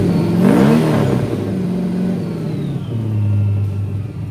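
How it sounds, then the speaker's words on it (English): A modified LS3 crate engine of about 700 horsepower with a Whipple 2.9L supercharger runs close up. It gives a sharp rev early on, then settles into a steady, loud idle with a whirring drone. "So here we're looking at our modified LS3 crate engine putting out about 700 horsepower"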